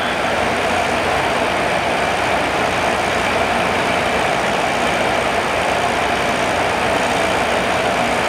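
A light aircraft engine in Microsoft Flight Simulator 2020, throttled all the way down while flying low to the ground, giving a steady, even drone at idle that continues unbroken throughout with no voices.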